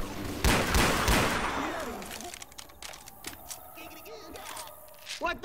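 Gunfire in Left 4 Dead 2, a few sharp close shots at the start followed by scattered quieter cracks and game noise, with a voice talking over it.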